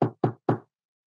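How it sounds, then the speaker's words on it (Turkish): Three quick, firm knocks on a door in an even rhythm, close and clear, followed by silence. "Kapıyı çalmış."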